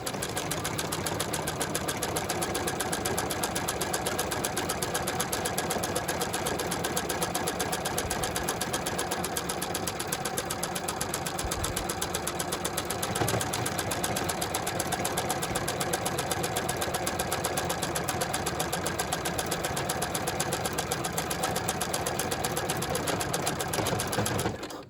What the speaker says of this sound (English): So now I'm going to make that keyhole button, and I'm just going to go nice and slow.